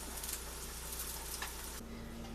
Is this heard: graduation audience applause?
no